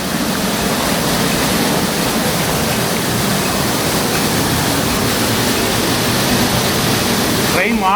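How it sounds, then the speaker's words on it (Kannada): A waterfall at Robber's Cave in Dehradun gives a loud, steady, close rushing roar that fills the whole stretch without a break. "ಇದು ಫಾಲ್ಸು."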